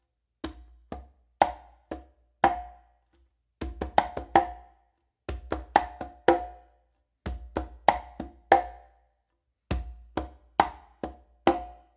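A bomba variation on two or three congas plays in bursts of quick, crisp hand strokes and ringing open tones, grouped phrases separated by short pauses, close-miked and without voices.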